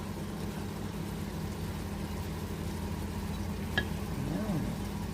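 Onions fry in a pan for chicken liver adobo, with a low, steady sizzle and occasional stirring scrapes throughout.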